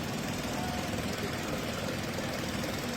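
A badly overhauled Ford three-cylinder engine idles close by with a rough, steady drone and a persistent knock running through it.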